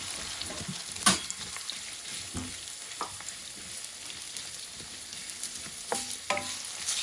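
Onions frying in a pan for Sylheti lal birun chawl biran are stirred, with a steady soft sizzle broken by several sharp scraping stirs and clinks, close and without talk.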